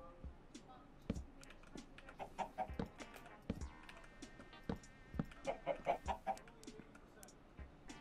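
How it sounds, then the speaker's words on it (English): Chickens clucking nearby in quiet, irregular bursts, a run of quick repeated clucks near the end, with faint knocks and rustling around them. "Ah, chicken."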